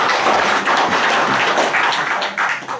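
Steady applause from an audience at a clan association's nationwide fellowship gathering, dense clapping of many hands, loud and continuous for the whole stretch with no talk over it.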